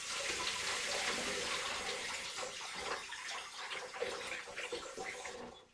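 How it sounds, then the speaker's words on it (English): Tap water runs steadily from a faucet while farm eggs are washed to remove their coating, a continuous close, bright splashing rush with slight shifts as the eggs move under the stream. "Gonna wash the coating off my eggs."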